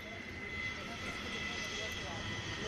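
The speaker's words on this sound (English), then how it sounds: "What you're seeing on your screens, ladies and gentlemen, right now is the Scorpion taking its last flight." A MiG-27 Scorpion jet flying for the last time with the Indian Air Force produces a steady distant engine roar with a high whine, continuous and even, with commentary voices underneath.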